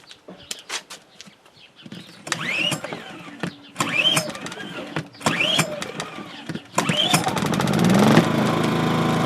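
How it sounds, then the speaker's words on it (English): A Harbor Freight Predator 2000 generator gets a cold start: several loud rasping cord pulls come in separate bursts, then the engine catches and settles into a steady close drone. "It's on eco mode, so you can hear how quiet it is."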